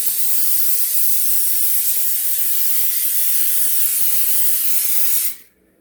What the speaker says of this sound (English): I sprayed the inside really, really well. And I use the olive oil spray.